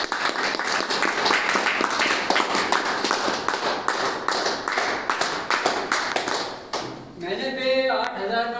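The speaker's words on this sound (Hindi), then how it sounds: "सर पटेल सर ने ताली हो जाए।" A crowd of people claps steadily and briskly for several seconds, close and loud. The applause fades out near the end, and a voice follows.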